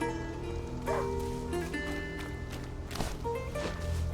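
Dog barking in the medieval countryside of A Plague Tale: Innocence, a few scattered barks and yips set against a continuous game ambience, mixed with footsteps and movement at a moderate level.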